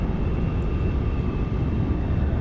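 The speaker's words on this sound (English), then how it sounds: "So we've got our afterburners engaged." The Concorde's afterburners roar during takeoff in the flight simulator X-Plane 11, a steady, loud, broadband jet rumble with no break.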